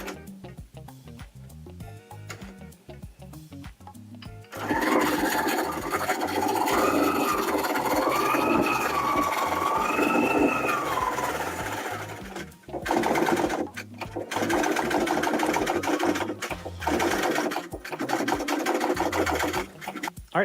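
A longarm quilting machine bastes fabric down onto two layers of batting, its motor running as a loud, steady, fast stitching hum for most of the clip, with brief stops and restarts and a quieter lead-in.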